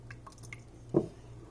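Thickening cheese sauce for homemade mac and cheese being stirred, faint quiet wet sounds with one soft squelching plop near the middle.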